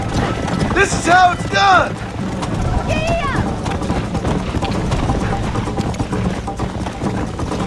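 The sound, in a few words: horse galloping in a video game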